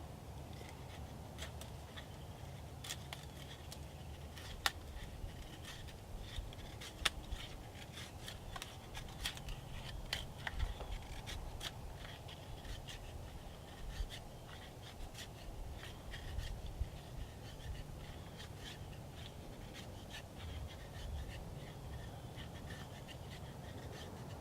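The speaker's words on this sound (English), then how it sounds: "See if it can do some feather sticking." A Condor Bushlore knife shaving feather sticks from dry branches outdoors, giving repeated soft scraping and rasping strokes at close range, steady and fairly quiet over a light background hiss.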